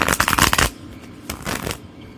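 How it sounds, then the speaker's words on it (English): A Modern Witch Tarot deck is shuffled by hand, a quick riffle of rapid, crisp card flutters up close, followed by a couple of softer sliding shuffles. "Give it one more shuffle."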